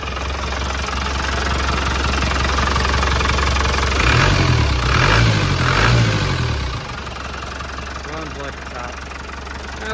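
A 1989 Land Rover Defender 110 with a 200Tdi diesel engine idles steadily close by, with a low, even rumble. Partway through there is a short rise in revs, and then it settles back to a quieter idle.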